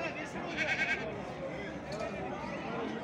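Sheep and lambs bleat at a small-livestock market in Çorum, several wavering cries clustered early then again later, close and fairly loud amid a busy background of people talking.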